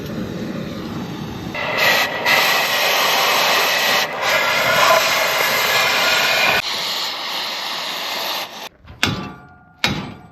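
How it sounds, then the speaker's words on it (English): A cutting torch runs with a steady, loud roaring hiss that holds for most of the time, broken by a few brief dips and ending in clanks and pauses. "let's get the torch going"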